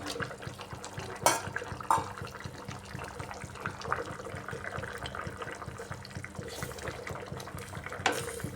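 Fried rohu fish pieces go into a papaya and potato curry simmering in a pot, with steady bubbling and sloshing and a few brief splashes, close by and without speech.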